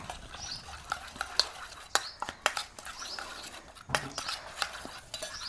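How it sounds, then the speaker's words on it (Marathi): A metal spoon whisks a Vaseline and lemon mixture in a small bowl. Quiet, uneven scraping runs throughout, with sharp little clinks against the bowl scattered through the whisking. "त्याला चांगलं असं फेटायचं चमच्याने."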